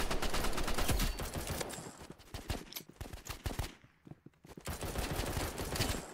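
Revolver shots in a Roblox Rivals gunfight, a dense burst of loud cracks at first, then scattered sharper shots, a short quiet gap, and renewed rapid firing.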